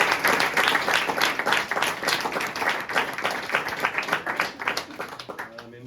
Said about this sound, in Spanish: un aplauso para Silvio Frondizi